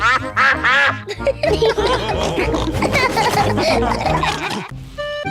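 Cartoonish quacking voices chatter busily over lively background music, with several cartoon ducks from Peppa Pig calling at once in a noisy, bright mix.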